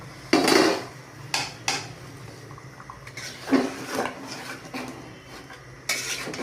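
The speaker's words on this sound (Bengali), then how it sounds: "মশলাটা কষিয়ে নিয়েছি, এবার মাছের মাথাগুলো ঢেলে দিচ্ছি।" Fish heads tipped into a pan of fried spices for a Bengali muri ghonto, giving a few sharp clatters and sizzling scrapes of metal cookware, close and fairly loud, with quieter stirring between them.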